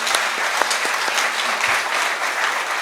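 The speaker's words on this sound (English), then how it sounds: "give a strong round of applause to these gentlemen and" Conference audience in Kampala, Uganda claps steadily for presenters, a dense, even wash of applause with a few sharper individual claps standing out, no speech over it.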